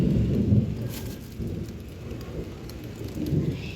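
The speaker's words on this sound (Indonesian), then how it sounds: "Tapi udah mulai hujan ya, tapi masih kecil sih" Steady light rain patters on surfaces in a home garden, a dense continuous hiss with soft low rumbling and no voices.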